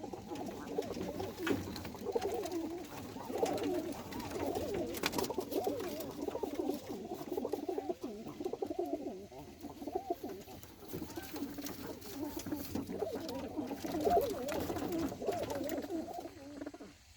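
Birmingham Roller pigeons coo inside a loft, overlapping soft, throaty rolling calls that carry on continuously at low volume with faint shuffling behind.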